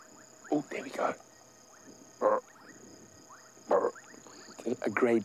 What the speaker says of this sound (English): Really hoping for a few more frog noises.